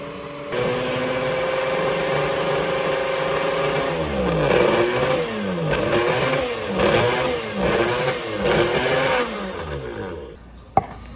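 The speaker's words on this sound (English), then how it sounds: "because I have a small blender, you're going to see me do this blending process numerous times" A small blender whirs loudly and steadily as it makes breadcrumbs, its motor pitch rising and falling in repeated pulses as it chops, ending with a sharp click.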